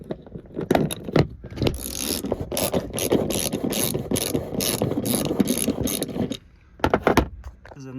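A ratchet wrench fitted with a 14mm socket works a bolt loose in the trunk of a Toyota RAV4, giving a fast run of sharp clicking strokes close by, a pause, then a few more clicks at the end.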